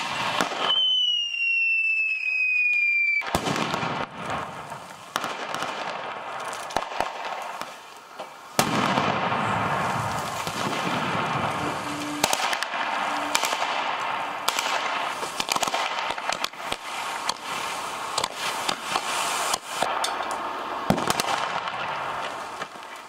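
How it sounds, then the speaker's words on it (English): Russian soldiers fire weapons during tactical military exercises near the Ukraine border, with a brief whistling tone and then a long series of sharp bangs and bursts, some close together and some spaced out, over a constant rumble. "These are Russian soldiers stationed near the Ukraine border and conducting tactical exercises, complete with gunfire and missiles."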